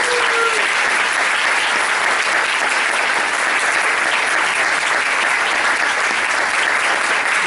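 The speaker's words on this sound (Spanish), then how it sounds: "Y quisiéramos que les dieran un aplauso." Steady, dense applause from a church congregation fills the whole stretch without a break, loud and even, like a full room clapping together during a service.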